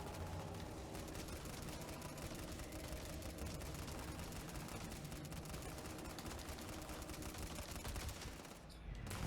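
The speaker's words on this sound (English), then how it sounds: "I am just mag dumping like crazy right now" A continuous hail of rapid gunfire in Starfield, a magazine emptied in one long unbroken stream of shots at an even, relentless pace, fairly quiet overall and cutting off near the end.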